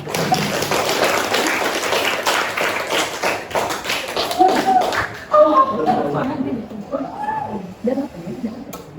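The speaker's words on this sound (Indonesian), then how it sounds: "silakan kasih aplaus untuk kelompok ini" An audience claps for a group presentation in a brisk, dense burst for about four seconds. The clapping then thins out as voices and light shuffling take over.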